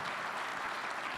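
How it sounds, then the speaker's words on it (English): Debate panelists receive a brief, steady burst of audience clapping, a dense and even spatter heard at moderate distance. "Let's give our panelists a round of applause"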